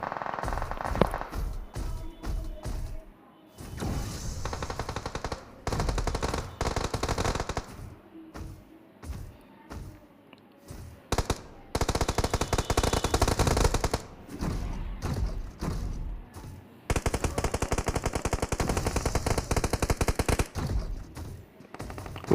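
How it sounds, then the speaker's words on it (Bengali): Rapid automatic gunfire from the PUBG battle royale game, loud bursts of rattling shots recurring across the whole stretch, broken by short quiet gaps, with no talking over it. "ফায়ারের সাউন্ড পেয়েছি"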